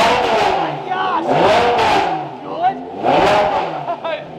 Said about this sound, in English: give us a couple baby revs. No, all the way up.